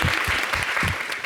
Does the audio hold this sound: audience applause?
yes